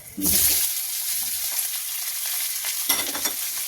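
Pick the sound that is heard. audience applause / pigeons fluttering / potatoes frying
potatoes frying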